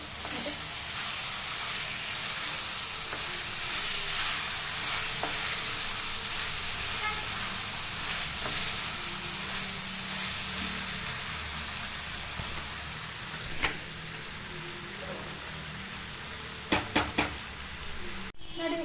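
Vegetables for avarekalu (hyacinth bean) upma fry in a tempered pan, giving a steady, close sizzle throughout with a few sharp clicks of stirring near the end; no one talks.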